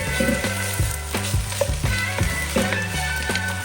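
Garlic cloves frying in a pot for red beans and rice, a close, loud sizzle with a rhythmic stirring scrape repeating about every half second, no talking.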